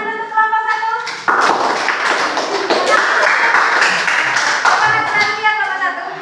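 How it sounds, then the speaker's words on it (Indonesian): A classroom of students claps for a group, starting with a few scattered claps and then a dense, close burst of clapping that runs to the end, mixed with voices. "tepuk tangan untuk kelompok 1"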